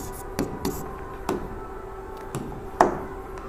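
Pen or chalk writing out a trigonometry solution for a Class 10 maths lesson, a faint continuous scratching broken by several sharp taps and strokes at irregular intervals, close by with no talking.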